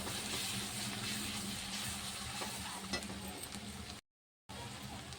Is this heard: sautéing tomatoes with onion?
yes